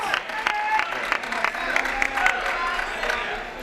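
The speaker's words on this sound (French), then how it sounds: "La foule qui est derrière moi au centre de Briard appuie." Crowd at a wheelchair fencing World Cup bout at a sports centre cheers and applauds continuously, with scattered claps and shouts forming a steady wash of noise and a commentator's voice partly heard over it.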